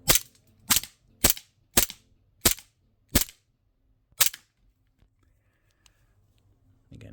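A 1911-style CO2 4.5mm BB pistol fires seven sharp, snappy shots at a fairly steady pace, close and loud, then quiet follows apart from faint background noise.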